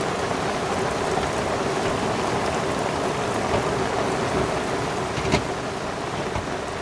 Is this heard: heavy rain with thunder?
yes